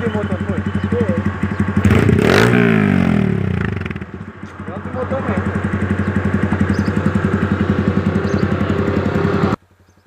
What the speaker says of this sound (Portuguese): estourei o motor da tua moto